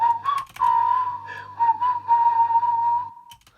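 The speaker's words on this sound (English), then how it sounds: "I had to auto-tune the whistle as well, or melodyne it, some of those notes." A whistled melody on a music track, pitch-corrected and triple-tracked, holds one sustained, wavering line with a short opening phrase, loud and close, then stops abruptly near the end.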